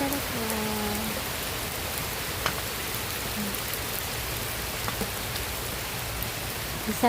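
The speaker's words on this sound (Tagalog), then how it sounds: "Ang sarap sa tenga yung ulan." Steady rain falling outdoors in Iloilo, a dense even hiss of drops on surfaces with occasional louder splats, no talking over it.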